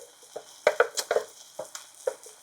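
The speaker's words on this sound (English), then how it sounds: "Stir that until it's hot" A spoon stirs wilted spinach and heavy cream in a pan, giving a quiet background sizzle broken by a series of irregular scraping clinks, with no talking.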